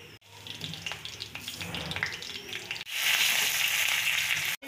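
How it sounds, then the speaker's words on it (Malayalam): Oil heats in a pan for frying mustard seeds, giving a soft, crackling sizzle that swells sharply louder partway through and holds steady, with brief clatters at the start and end. "അതിലേക്ക് കടുക് വറുക്കാൻ വേണ്ടിയിട്ട് എണ്ണ ഒഴിച്ചു കൊടുക്കാം."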